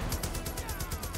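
Rapid bursts of gunfire with deep booming explosions rolling underneath in the video game Far Cry New Dawn, a steady busy barrage with no voices.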